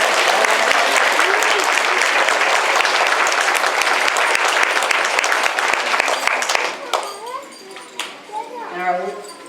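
An elementary school end-of-year awards audience applauds first and second graders, dense loud clapping and cheering that fades after several seconds into children's chatter and voices.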